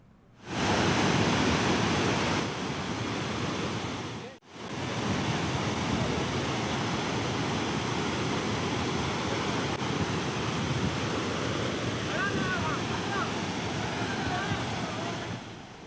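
Water pours at Kalyana Revu waterfall near Palamaner in Chittoor district, a dense, continuous roar that fills the scene with broad rushing noise, briefly cut once, with a faint voice in the background.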